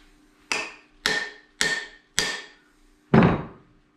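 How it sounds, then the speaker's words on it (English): A hammer driving a wedge into the top of an axe handle during hafting, five sharp, evenly spaced strikes, the last one heavier and louder, with no talk. "I'll hit on the back of the wedge or the front to purposely try to get it to crack."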